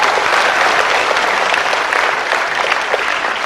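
A theatre audience at a performance of the play Sahi Re Sahi breaks into loud, continuous applause, with many hands clapping at once in a dense, steady roar.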